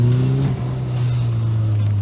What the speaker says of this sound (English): Exhaust was rattling like crazy